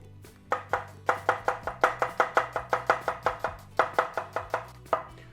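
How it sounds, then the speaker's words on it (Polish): A knife chops an onion into half-slices on a board: about twenty sharp, evenly spaced cuts in a quick steady rhythm, close and clear, with no talking. "Cebulę będę kroił w pół talarki."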